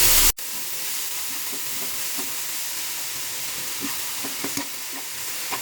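Carrots and other vegetables stir-fried in a pan over garlic, a steady close sizzle after a brief sharp opening burst, with intermittent utensil scrapes and taps and no talking.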